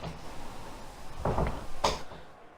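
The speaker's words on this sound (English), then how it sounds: "if you hear the door thuds, ignore that. It's just my cat." A cat thudding against a door, two dull knocks in quick succession, muffled and somewhat distant, over a steady room hum.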